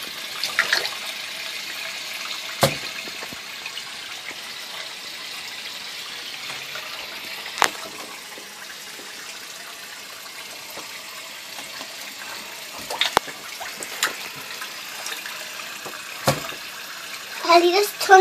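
A bathroom tap runs in a steady, moderate stream while a boy rinses after his first shave, with faint clicks and splashes as a child and an adult talk over it.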